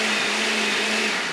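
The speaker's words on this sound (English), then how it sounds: "this is a brand new blender" A brand new blender whirring through a tortilla soup base, a loud, steady high-pitched motor drone held evenly and close the whole time, with no voices.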